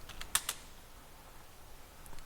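A short, faint burst of keys tapped on a computer keyboard while a title is typed, a quick cluster of light clicks followed by a pause and a few more taps, with no voices.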